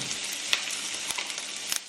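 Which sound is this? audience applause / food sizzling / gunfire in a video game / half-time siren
food sizzling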